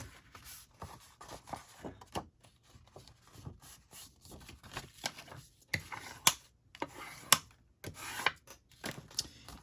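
Paper card folded by hand at close range, a series of soft rubbing, creasing and crinkling strokes with a few sharper crisp snaps, quiet and without talk.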